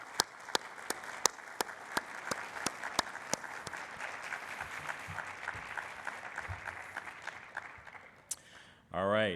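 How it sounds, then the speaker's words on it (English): An audience at a medical conference plenary applauds its presenters with steady, sustained clapping that fills the room, sharp individual claps standing out, before a voice begins speaking at the very end. "give a big round of applause to our PhyzTalk"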